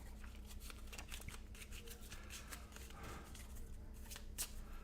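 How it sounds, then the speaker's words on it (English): Playing cards being shuffled give a soft, continuous run of riffling flutters and patters, close but quiet, with no voices. "And now we got to shuffle. Shuffle, shuffle, shuffle."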